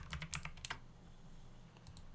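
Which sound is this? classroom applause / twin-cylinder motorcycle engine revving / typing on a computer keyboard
typing on a computer keyboard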